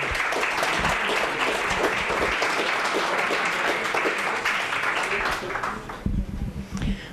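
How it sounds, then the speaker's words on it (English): Audience applause at a town candidates night, a steady dense wash of clapping from a seated crowd indoors that carries on for several seconds before thinning out near the end. "Now you can applaud."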